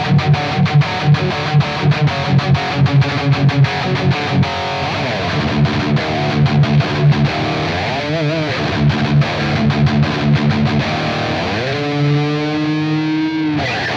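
Electric guitar played through the Blackstar St. James plugin on its Mad Chug setting, heavily distorted, with tight rhythmic palm-muted chugs and sustained chords that ring out, loud and up close.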